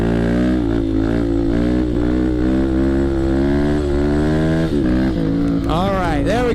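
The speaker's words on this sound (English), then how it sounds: "I guess we'll start off with a wheelie." A dual sport motorcycle engine revs hard for a wheelie on loose, low-traction ground, a loud throbbing drone with a sharp rise in pitch near the end.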